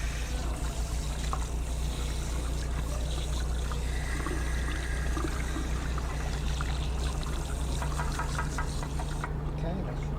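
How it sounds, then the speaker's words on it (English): Continuous water pours and trickles at close range, a steady splashing wash over a low hum, with no clear talk during the flow. "I hope everyone likes the water sounds."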